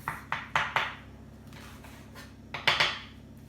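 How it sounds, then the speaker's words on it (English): A knife slices through an onion on a board, giving a few crisp, close cuts in quick succession, then a pause, then another short cluster of cuts. "you can slice this onion up too"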